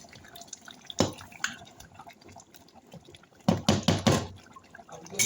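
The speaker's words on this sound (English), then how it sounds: "I'm going to add more water." Water splashes into a pot of banga (palm fruit) and ogbono soup in short bursts, with a clunk early on and a cluster of pouring, knocking sounds toward the end.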